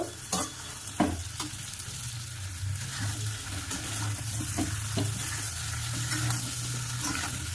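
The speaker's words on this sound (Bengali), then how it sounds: "এবার ওর মধ্যে আমি আলুগুলো ঢেলে দেব। দিয়ে এবার ভালো করে কষিয়ে নেব।" Potatoes fry and are stirred into a spiced masala in oil for Bengali aloo dum, a steady sizzle with a low bubbling hum, broken by a few sharp spoon scrapes against the pan, close and alone.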